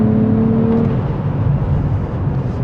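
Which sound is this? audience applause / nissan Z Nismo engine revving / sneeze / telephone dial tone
nissan Z Nismo engine revving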